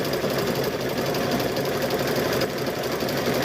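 A sewing machine stitches fabric-wrapped rope into a bowl, a steady, fast mechanical whirring and ticking that runs continuously and close throughout, with no talking.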